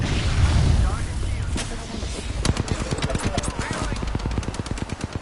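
Rapid video game gunfire, loud and close, starting with scattered shots before breaking into a steady fast burst of automatic fire, with a voice talking underneath.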